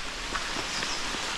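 Rain near Malabsay Falls on Mount Isarog, a steady dense hiss of falling drops with a few faint pattering taps, close and continuous.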